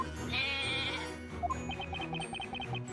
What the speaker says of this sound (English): You mean your baby goat, right?